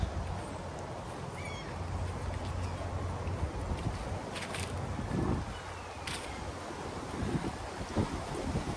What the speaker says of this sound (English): But a little bit too windy to be comfortable with it.